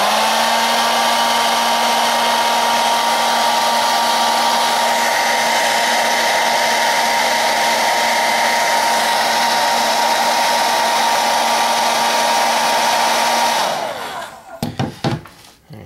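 Heat tool blowing hot air onto an action figure to soften it, a loud, steady close whine holding for about fourteen seconds before switching off, followed by a few handling knocks.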